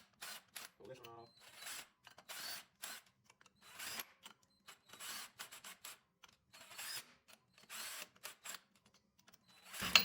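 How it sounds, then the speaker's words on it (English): An impact gun tightens lug nuts onto a wheel with spacers, firing in short, repeated bursts separated by pauses, close and loud, with someone talking in between. "I'm just gonna use my gun real quick and tighten these down."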